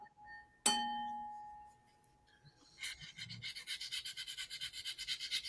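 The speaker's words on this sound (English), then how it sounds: "That's my light bell." A single bright ding from a small light bell on a plastic model, ringing out and fading, followed by soft rhythmic breathing-like scratching noise close by.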